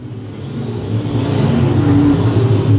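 Stock cars racing around the I-35 Speedway oval, engines roaring steadily and building slightly in loudness as the pack runs through the turns, with no talk.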